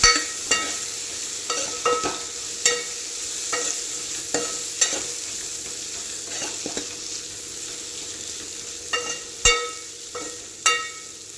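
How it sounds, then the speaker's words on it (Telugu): Potatoes sizzle steadily in a hot pan for aloo curry while a spoon stirs and knocks against the metal in irregular close scrapes and taps, with no talk. "మంచిగా కలుపుకోవాలి."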